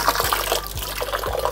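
A cut pomelo fruit is rinsed under water in a garden, with soft, close sloshing and trickling and a few faint splashes over a low background hum.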